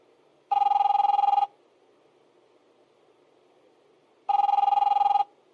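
Two loud electronic telephone rings from The Wolf Among Us video game, each about a second long and separated by a few seconds of near silence with a faint hum.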